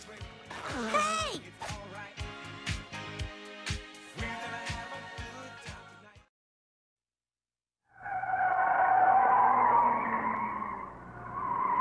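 Tires screech in a long skid during a cartoon car chase, a loud sustained squeal that rises after a stretch of silence, preceded by busy music with sharp percussive hits.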